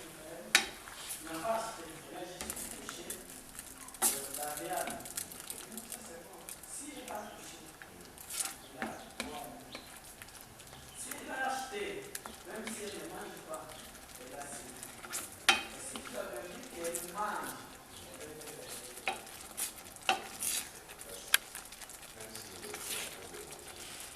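Food being stirred in a pan with spring onion nearby, giving a steady scraping and rustling texture over faint sizzling, with irregular utensil clinks and knocks throughout, fairly close and moderately quiet.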